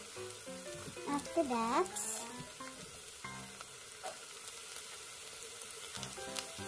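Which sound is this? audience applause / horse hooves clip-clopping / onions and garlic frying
onions and garlic frying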